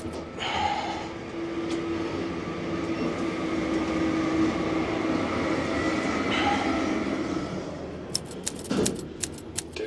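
Inside a Deutsche Bahn train on the way to Schliersee, a steady rumbling carriage roar with a faint tonal whine fills the space, ending in a few sharp clacks and rattles near the end.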